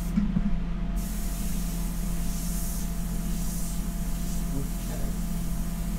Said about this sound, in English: I just want to make sure that the airbrush is working correctly